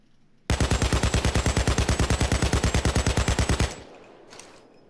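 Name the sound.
AKM assault rifle firing in video game Payday 2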